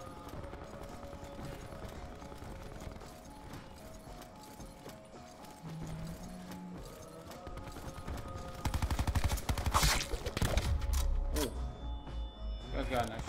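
Gunfire in the video game Black Ops 4, heard as quick bursts of shots with clicks and mechanical clatter, getting louder and denser in the later part, while players talk over the action.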